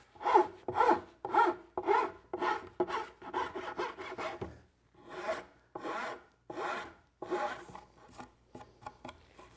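A file smooths rough wooden edges along a curve with a run of quick, close rasping strokes, first rapid and dense, then after a short pause slower and more spaced, each a gritty scraping rub with no voices.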